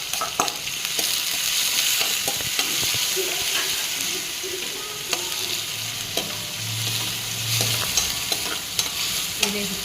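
Garlic and dried onion paste fries steadily in a pan with a continuous sizzle, stirred now and then with soft scraping clicks, close and fairly loud throughout.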